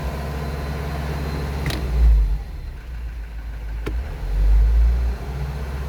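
JMC vehicle with a low-power injector fault, engine running with two strong revs that swell and fall back to a rough mid-pitched idle, close by.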